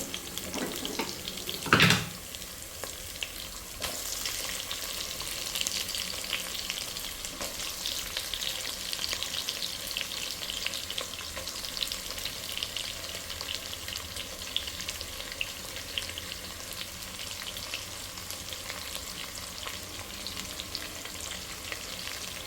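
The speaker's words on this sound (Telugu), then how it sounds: "ఇప్పుడు ఆనియన్స్ యాడ్ చేసేద్దాము" Sliced onions frying in hot oil with green chillies in a pan while cooking chicken biryani, a continuous soft sizzle with a brief louder clatter early on, steady and fairly quiet.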